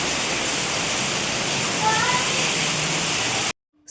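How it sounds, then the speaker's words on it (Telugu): Water gushing in during Cyclone Fengal amid strong wind: a loud, dense, continuous roar of rushing water that holds steadily for about three and a half seconds and then cuts off abruptly. "పైన బ్లాక్ అయిపోవడం వల్ల ఇలా వాటర్ వచ్చేస్తున్నాయండి"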